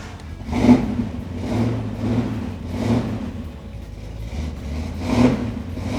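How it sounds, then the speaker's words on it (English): A 1970 Ford Shelby GT350 convertible's V8 engine revs repeatedly in a steady cycle, rising and falling about five times, close and fairly loud with a low rumbling tone. "I want to fire it up because this engine sounds wonderful"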